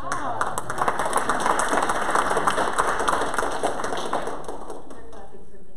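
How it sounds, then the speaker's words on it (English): An audience at a church comedy and couples night claps together in a dense, steady patter of many hands. The applause holds for several seconds, then thins and fades away. "They're clapping for me."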